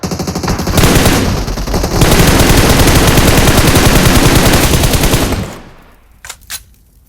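Sustained rapid automatic gunfire at a car's fuel tank in a video game, loud and continuous for several seconds, then cutting off into a few scattered distant shots.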